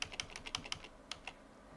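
Keys clatter on a computer keyboard in short quick bursts, about a dozen light clicks packed into the first second and then two isolated taps, close and quiet with no talk.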